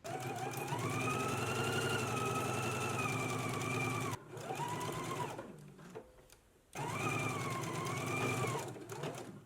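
A sewing machine runs a side seam at a 5/8-inch allowance, its steady motor whine close and continuous, dipping and pausing briefly midway before resuming at full speed.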